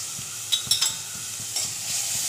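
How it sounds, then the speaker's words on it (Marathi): Onion and garlic sautéing in a pan for a morning non-veg breakfast, a steady bright sizzle with a few sharper crackles and stirring scrapes, close and continuous with no talking. "प्रथम कांदा टाकला जातो परतवण्यासाठी"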